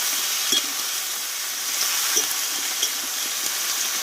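Boiled young jackfruit sautéing in oil in a home kitchen pan, giving a continuous close, dense sizzle and hiss with a few soft stirring knocks spread through it.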